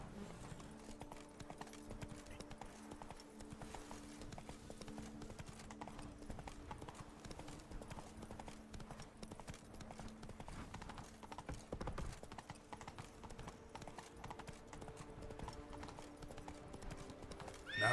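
Roach the horse clip-clops along in The Witcher 3, a steady run of hoofbeats that carries on for the whole stretch, faint under quiet game ambience, with a brief whinny and a low voice near the end.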